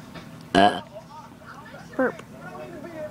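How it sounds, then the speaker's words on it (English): Two loud, short human burps, the first longer and the second briefer about a second and a half later, with soft voices and background babble indoors. "Burp."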